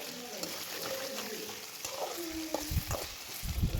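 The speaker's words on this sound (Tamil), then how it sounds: "நம்ம கட் பண்ணி வச்சுருக்கிற கத்திரிக்காவை ஆட் பண்ணிக்கலாம். இதையும் நல்லா நம்ம ஃப்ரை பண்ணிக்கணும்." Cut eggplant pieces frying in a pan with salt for a kathirikai kulambu, a steady soft sizzle with stirring scrapes and clatters toward the end, plus faint background chirps.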